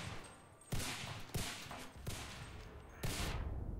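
Bursts of gunfire in the Pacific-theatre shooter Enlisted, including a Browning Auto-5, come as four sharp, loud volleys at roughly even intervals over a steady background of battle noise.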